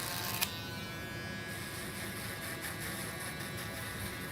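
Electric shavers buzz steadily and close up as they take a haircut down to the skin in a barbershop, a continuous high whine after a short click at the start.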